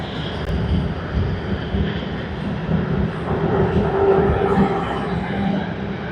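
Aircraft at Sydney Airport during peak hour, a steady broad engine roar heard from a distance with a continuous rumbling drone and no clear voices.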